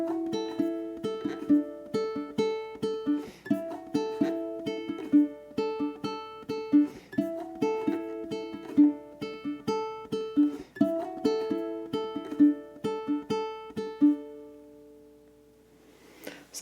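A ukulele loops one measure of a song over and over, bright plucked notes and picked chords repeating in a steady pattern, clear and close, until the last ring fades into quiet.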